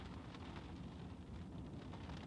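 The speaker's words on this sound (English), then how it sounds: "it's starting to rain, and I feel like this noise is just going to ruin my video." Rain falls on a car while someone sits inside at night, a faint, steady patter of drops on the body and roof with no break.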